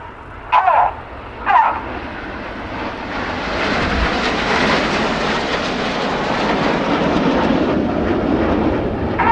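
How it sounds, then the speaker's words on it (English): Display team jets in formation roll over Farnborough Airshow, a loud broad engine roar that swells and holds for several seconds, preceded by two short bursts of noise nearby. "The inside pilots perform tight match rolls to the outside of the formation in the rollbacks."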